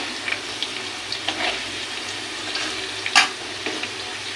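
Whole spices drop into oil where potatoes are already frying for a watermelon-rind vegetable curry, giving a light sizzle with scattered scraping and stirring clicks and one sharper clatter.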